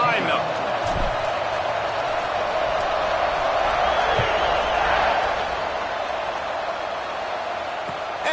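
A stadium crowd roaring at a college football kickoff, Auburn versus LSU, a dense, sustained wall of cheering throughout with an announcer's voice over it.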